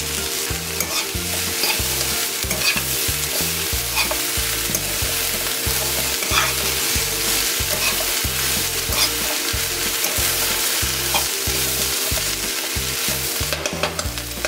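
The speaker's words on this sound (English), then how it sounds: "I am gonna toss everything together. 40 grams of dried cranberries, 4 slices of bacon" Brussels sprouts, dried cranberries and bacon being tossed and stirred together in a hot pan, giving a steady, loud sizzle with constant stirring scrapes throughout and no talking.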